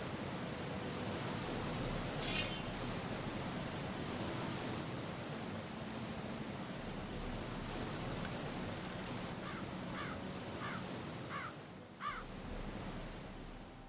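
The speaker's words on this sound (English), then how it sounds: "That's why the waterfalls are so much more loud." Waterfall ambience from the video game Gothic II: a constant broad rushing roar of falling water, with a few crow caws breaking through toward the end.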